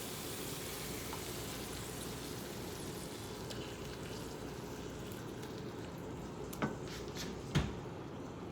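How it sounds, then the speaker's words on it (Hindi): Eggs frying in a pan with onions and mashed tomatoes, a steady dense sizzle throughout, broken near the end by two quick clinks of a utensil against the pan. "ये अंडे को फ्राई कर रहे हैं।"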